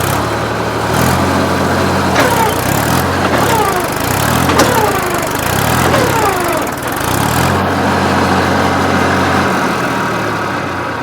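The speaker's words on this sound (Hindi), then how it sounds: "घुसने का दरमियान में हम लोग का ट्रैक्टर जो है तो फंस गया है। अब देखते हैं, प्रयास करते हैं निकालने का" A tractor engine runs loudly and steadily nearby while the tractor is stuck in red soil in a pea field, with repeated rises and falls in revs as it strains to pull free.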